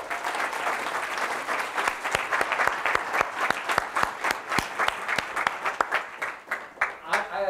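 Audience at a Tech Day keynote applauding for the president, a dense crowd of clapping with distinct individual claps standing out, loud and sustained before tapering at the end.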